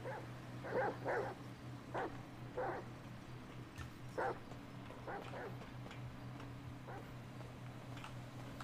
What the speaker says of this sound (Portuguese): os cachorros estão atrás, chat